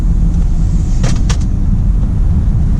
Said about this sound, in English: we'll give it a little bit of gas as we come around this turn